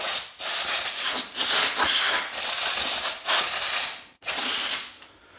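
Compressed air blasts leaves and debris off a Briggs and Stratton lawn mower engine's cylinder head in a series of loud, close hissing bursts, each lasting about a second with brief breaks between them.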